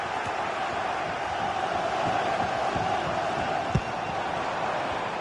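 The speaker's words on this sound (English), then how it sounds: "the crowd is certainly trying to motivate the players to get the equaliser" A stadium crowd in FC 26 keeps up a dense, steady roar of cheering and chanting throughout, loud and unbroken, with a faint thump near the end.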